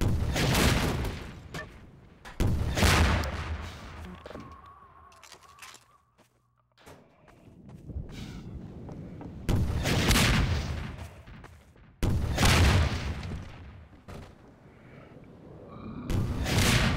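Rockets explode repeatedly in Half-Life 2 gameplay, with several loud, close booming blasts spread across the stretch and rumbling decays between them.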